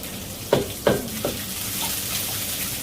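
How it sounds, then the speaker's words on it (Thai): Red curry paste being stir-fried over low heat in a pan for a Thai peanut sauce, with three quick scrapes of a ladle followed by a soft, steady sizzle close by. "ผัดพริกแกงมาให้หอมก่อน"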